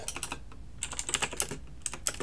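Typing on a computer keyboard: a quick, steady stream of close, crisp key clicks with no talking.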